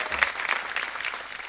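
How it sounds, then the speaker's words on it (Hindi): Brief, bright burst of applause on a Hindi television serial set, dense clapping filling the whole moment without any talk. "और तालियां!"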